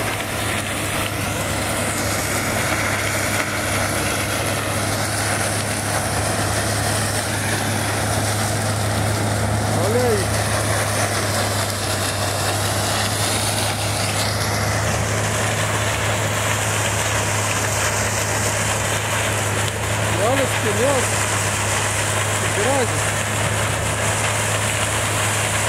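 A sugarcane harvester runs continuously while cutting and loading cane in a field, a loud steady engine drone with a constant low hum and a few brief higher whines.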